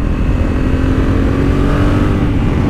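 Honda Africa Twin DCT motorcycle being ridden, a steady loud engine drone mixed with rushing wind noise, continuous and close, with no speech.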